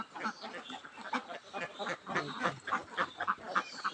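Ducks on a small family duck farm in Bangladesh, moulting and off their laying, quack repeatedly in a busy, overlapping flock chorus at moderate distance.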